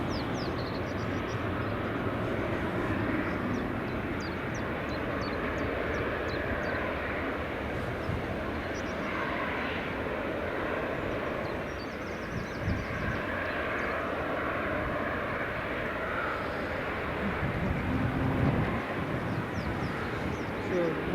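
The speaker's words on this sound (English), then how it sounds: "Next up, Ryanair 737 MAX." A Ryanair Boeing 737 MAX airliner on runway 24 at Edinburgh Airport in the early morning: a steady, broad engine roar holding at an even level throughout, with faint talk underneath.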